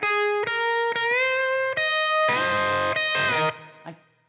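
An electric guitar plays a chord progression with hybrid picking, a string of sustained, ringing chords struck one after another with brief breaks, loud and close, ending in a fading tail.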